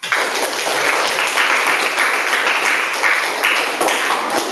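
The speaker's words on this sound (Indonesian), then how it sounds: "Oke, kasih aplaus untuk semua." Students in a junior high school classroom applaud together, a dense, steady burst of clapping up close that lasts several seconds, with no speech over it.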